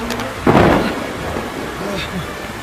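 A thunderstorm: a loud, close crack of thunder rolls into a rumble over a steady hiss of rain, with faint muffled sounds beneath.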